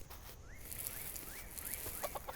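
In the farming game Dinkum, soft rising chicken clucks repeat about every half second over a hissy ambient background. A few quick clicks come at the end, and nobody speaks.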